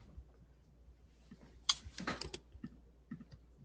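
Computer keyboard typing in an online meeting: a short burst of crisp key clicks, fairly close, followed by a few scattered lighter taps against a quiet background.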